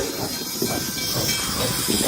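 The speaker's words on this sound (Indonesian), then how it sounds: "Wow, kereta api uap." A toy steam train gives off a steady, close hiss with a faint mechanical rattle underneath, continuous for a couple of seconds.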